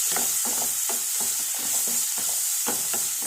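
Onions cook in a pan, a steady close sizzle with rhythmic stirring strokes scraping through it, one after another at an even pace.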